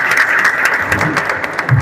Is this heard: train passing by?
no